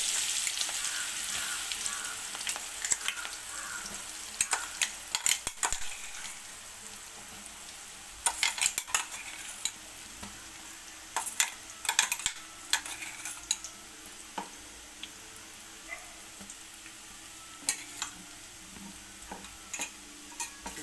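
Steady hissing sizzle of paste frying in hot oil, with scattered sharp spatters and pops and occasional scraping of a spoon against the pan.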